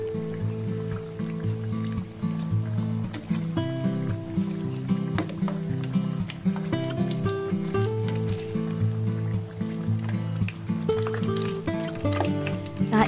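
Fried chicken ragout risoles are lifted out of hot oil and drained, the oil crackling and sizzling steadily, partly buried under music.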